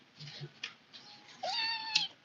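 A Siamese cat meows several times, short whiny calls ending in a longer drawn-out meow, close and fairly quiet indoors.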